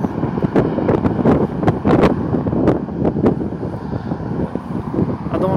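Wind blowing outdoors at a nature-style rest stop in Czechia, a steady loud rush buffeting the microphone with gusty bursts throughout.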